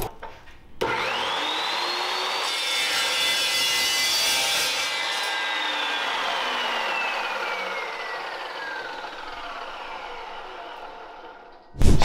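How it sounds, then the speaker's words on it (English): Old Coleman mini bike handlebars being cut with a power saw: a loud, steady whining cut runs for about ten seconds, the pitch slowly falling as the blade works through the metal, with a clunk at each end. "So then I got a set of handlebars I can cut up."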